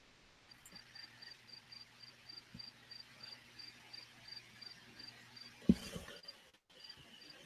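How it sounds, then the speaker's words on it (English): Crickets chirp in steady pulsing trills outdoors at night, faint and continuous against a quiet background, with a brief clatter near the end. "that's all you hear is just crickets, you know. Like, thousands of fucking crickets"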